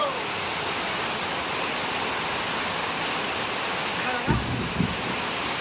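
A dense, steady wash of rain hisses throughout, with a couple of soft low thumps near the end.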